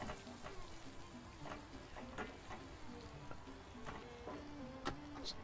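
Liver sizzling and frying in a pan with garlic, onion and pepper, a steady close crackle with occasional light stirring clicks and no talking.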